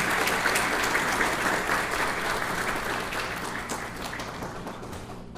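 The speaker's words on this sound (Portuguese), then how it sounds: "com nossa salva de palmas, por favor" Sustained audience applause at a book launch ceremony in Belo Horizonte, a dense steady clapping wash that gradually tapers off without any talk over it.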